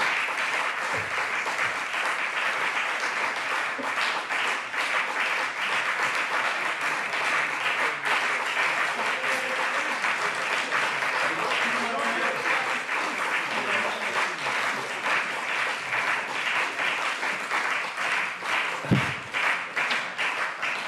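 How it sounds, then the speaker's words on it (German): Parliament members applaud at a plenary session after a minister's speech, a dense, steady clapping that fills the hall for about twenty seconds without letting up. "Ich ziehe den Applaus dann von der Mittagspause ab."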